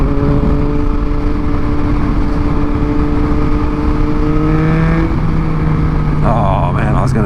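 A 2021 Yamaha MT-09 motorcycle engine revs and blips while riding, the pitch climbing in steady sweeps and then dropping as the throttle is rolled off, loud and close over constant wind rush.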